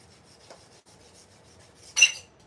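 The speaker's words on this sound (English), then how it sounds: "So then we'll go ahead and burnish this on." A tool rubs adhesive vinyl down onto a cardstock party box in faint, soft scraping strokes, ending with one louder, brief rub near the close.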